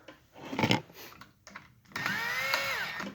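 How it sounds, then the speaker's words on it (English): A power drill driving screws into a garage light fixture whirs in one steady burst near the end, its pitch rising and then sagging, after a few seconds of scraping and handling noises. "just take your drill"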